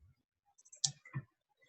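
A computer mouse clicking a download button, a couple of soft, sharp clicks close up in near silence.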